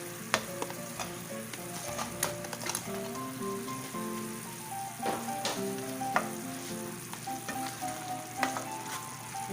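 Chicken frying in a garlic soy sauce mix with sriracha, extra hot chili sauce and sugar, a steady close sizzle broken by repeated scraping and clacking of a utensil stirring the pan.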